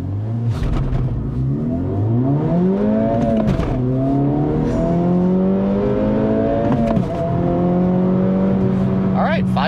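A 2024 Acura Integra Type S accelerates hard on a slight uphill during a 0 to 60 run, its engine climbing loud and close through several rising gear pulls with brief dips at the shifts.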